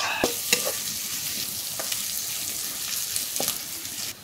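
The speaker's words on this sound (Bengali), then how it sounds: "পেঁয়াজ আর মাছটা ভালোভাবে ভাজিয়ে নেব," Chopped onion and fish frying in a pan for a Bengali dish, a continuous close sizzle with several sharp scraping clicks of stirring spread across it.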